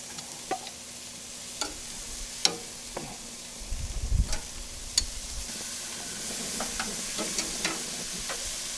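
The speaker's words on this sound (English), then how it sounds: "Start grilling the veg. The mushrooms." Mushrooms and vegetables sizzle steadily on a very hot grill, with scattered clicks and taps and a brief rustling scrape as the pieces are moved around. No one speaks.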